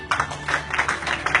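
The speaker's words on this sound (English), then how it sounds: "Big round of applause, joined by our Singapore promoters" Applause from an audience welcoming the Singapore promoters at a SIIMA awards press meet, a steady patter of many hands clapping at moderate volume throughout the brief moment.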